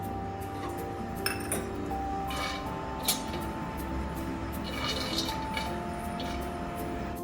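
Peanuts being dry-roasted in a pan give scattered light clinks and rattles as they are stirred, close and intermittent over a low steady background.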